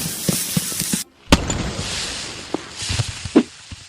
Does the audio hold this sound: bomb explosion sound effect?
yes